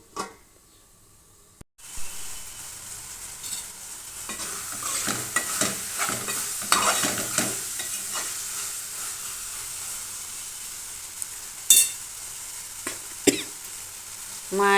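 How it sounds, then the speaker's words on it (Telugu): Mutton for Tadipatri-style biryani sizzles as it is stirred and cooked in a pot, a steady frying hiss broken by repeated scraping spoon strokes and a few sharp clanks. "బాగా కలిపేసి మూత పెట్టుకొని ఉడికించుకోవాలండి"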